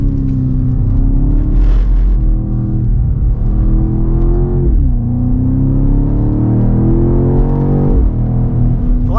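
Engine of a 2024 BMW X6 M Competition drones loudly from inside the cabin as it pulls hard, its pitch climbing and then dropping sharply at two gear shifts of the 8-speed gearbox.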